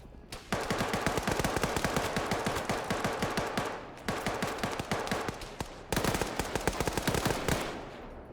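Sustained automatic gunfire in an Arma 3 firefight, dense rapid bursts filling most of the stretch with two brief breaks, loud and close.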